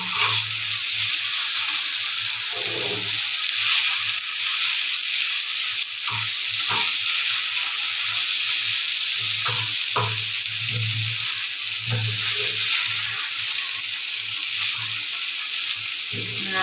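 Potatoes for aloo bhaji sizzle and fry steadily in a black kadai, a continuous bright hiss with occasional stirring knocks and scrapes, close and loud throughout with no talking.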